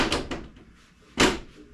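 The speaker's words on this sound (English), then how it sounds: "Shut the door." A door swinging shut on a household mini split system cabinet or room, with a few light clicks and rustles before one sharp, close thud near the end.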